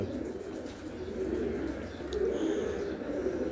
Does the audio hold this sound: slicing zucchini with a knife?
no